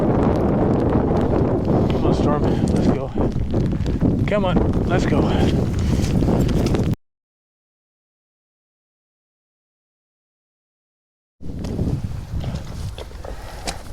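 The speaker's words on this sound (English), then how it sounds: "Very windy, very cold, very wet." Heavy wind buffeting the microphone in a loud, rough roar while a person talks, then a sudden silence before the gusty noise returns.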